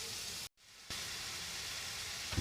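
Ginger-garlic paste frying in a pan with onion, tomato and green chilli, a steady loud sizzle cut by a brief silence before the hiss resumes.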